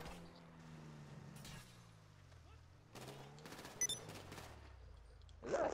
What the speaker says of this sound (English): I'm shooting you right now, Lavelle.